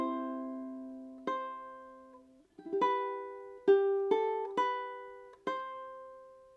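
A ukulele plays two measures of a song alone: about seven clearly plucked notes and chords ring out at a slow, uneven pace, each one decaying before the next, with a brief slide partway through.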